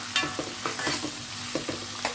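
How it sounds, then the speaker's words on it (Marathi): Finely chopped onion sizzles in hot ghee, with a spoon scraping and stirring in short repeated strokes, close and continuous. "तोही मस्त छान असा ह्या तुपावर फ्राय करायचा आहे छान असा गोल्डन ब्राऊन करून घ्यायचा आहे"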